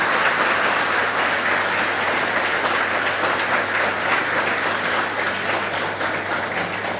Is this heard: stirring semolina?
no